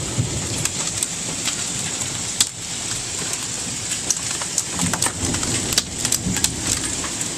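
Hailstorm with pea- to nickel-size stones pelting down in a dense, loud roar, sharp individual impacts cracking through it, with thunder rumbling underneath; no one speaks.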